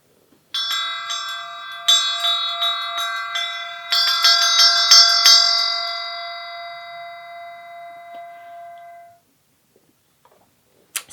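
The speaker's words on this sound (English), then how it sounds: "when you hear the bell, you can wiggle your fingers and toes and open your eyes." A meditation bell rings, struck several times in quick succession early on, its bright metallic tone ringing out clearly and then fading into a long, sustained decay before silence.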